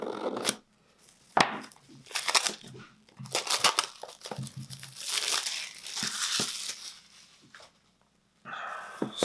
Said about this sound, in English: let's unbox it and take a peek what we get